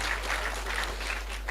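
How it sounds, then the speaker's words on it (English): Audience applause at a youth event in Ghana, a steady, dense patter of many hands clapping throughout the short stretch, with no other sounds. "Yes, clap for them."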